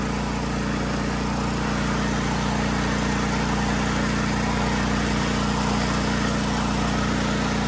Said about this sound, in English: I'm pedaling with full throttle motor on.